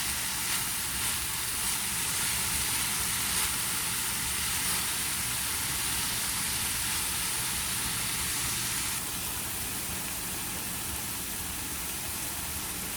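Cabbage and noodles stir-frying in a hot pan for chicken Hakka noodles, a steady loud sizzle with hissing steam that eases slightly toward the end, no voices.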